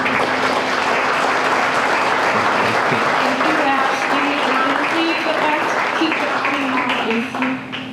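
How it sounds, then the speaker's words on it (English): A hall audience at a teacher appreciation ceremony bursts into sustained, dense applause that stays loud and steady for several seconds, with a voice speaking over the clapping and the sound easing slightly at the end. "everybody just deserves another round of applause"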